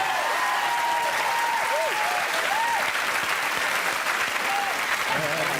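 Steady, dense applause from a television game show studio audience, continuous throughout with whoops and voices faintly mixed in.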